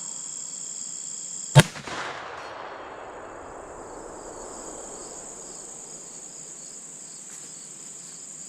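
A single sharp gunshot from a CVA Optima V2 muzzleloader with a 209 primer, fired at a 200-yard target outdoors; one loud close blast with a long fading echo, over a steady chorus of crickets.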